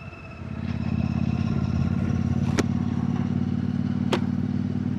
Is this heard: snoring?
no